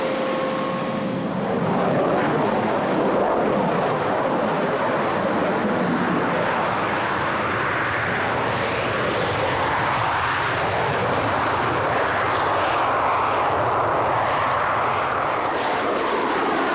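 Aeroplane engines roar steadily throughout flight operations, a loud, continuous drone that builds in the first couple of seconds and then holds, with no talk over it.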